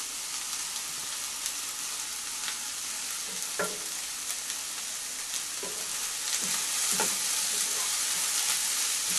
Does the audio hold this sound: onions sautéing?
yes